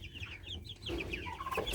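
Hens and roosters on a small farm cluck in short, faint bursts, several soft calls overlapping over under two seconds.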